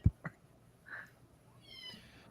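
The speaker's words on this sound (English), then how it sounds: "Yeah, the cat is real. That's Marsh's cat. You can hear" A house cat meows a couple of times indoors, faint and short, with a thin drawn-out cry near the middle and another toward the end over quiet room tone.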